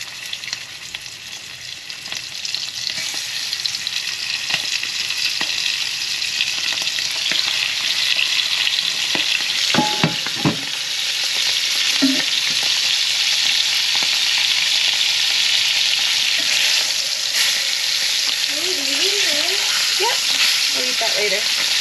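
Seasoned rabbit meat fries in a pan with a loud, steady hiss and crackle throughout, broken by a few brief knocks and scrapes of stirring, with no voices.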